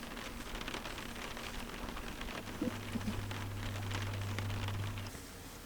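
Steady rain hisses softly, a constant quiet wash of falling drops with a faint low hum underneath.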